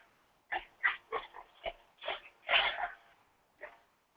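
Week-32 pigs on an Ohio pig farm give a run of short grunts and snorts, about a dozen irregular bursts close to the microphone, fairly quiet, with no talking.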